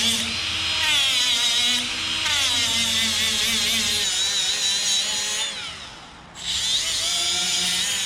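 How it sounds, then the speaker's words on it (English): A die grinder whines steadily while grinding down a small metal hump on a mini truck bed, a high continuous tool sound that wavers in pitch, briefly dips near the end, then resumes. "We'll grab the die grinder."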